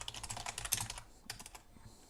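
Quick bursts of typing on a computer keyboard, rapid close key clicks for about a second, a short pause, then a few more scattered taps, quiet and without talk.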